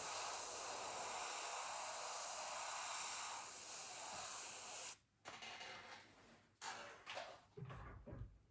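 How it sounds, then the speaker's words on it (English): A steady hiss of aerosol paint spraying onto the edge of a Meng F-4G scale model panel runs for about five seconds, then cuts off, followed by a few shorter bursts and faint handling noises. "I'm just spraying at the edge of the panel"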